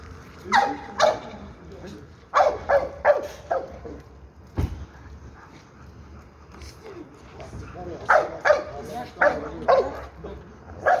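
A pitbull barks and yips in several short bursts, close by, with excited whimpers between them. People talk over and around the barking.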